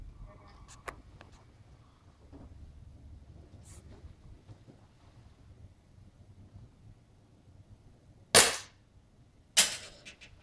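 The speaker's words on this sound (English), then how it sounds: "Fire a couple of more, and then we'll peel off the armor." BB gun shots striking an armored iPhone 4 case: two sharp, loud cracks close together near the end, after a long quiet stretch with faint background noise.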